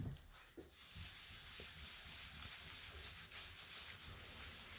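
Embossed paper being rubbed to lift ink from the raised areas, a soft, continuous dry scuffing close by, faint and even, with no talking.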